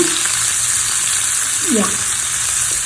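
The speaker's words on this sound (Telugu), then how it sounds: "వేసుకోవాలి ఉల్లిగడ్డలు వేసి కూడా" Onions fry in a pan with a close, steady sizzle, broken once by a short scraping stir.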